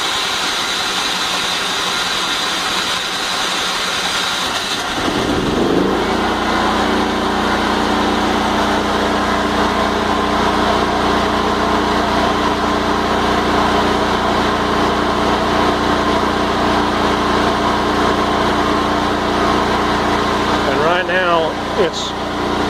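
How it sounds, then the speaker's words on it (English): A home backup generator, part of a solar power setup, cranks and catches at about five seconds, then settles into a steady, loud engine drone that runs on unchanged to the end, with a brief clatter near the close. "now the generator is going to start"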